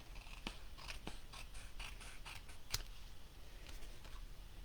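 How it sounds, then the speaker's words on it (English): Scissors snip through paper while trimming a card from a stamp set, a run of crisp, close, quiet cuts in an uneven rhythm, one sharper snip standing out near the middle. "we need to trim the top here"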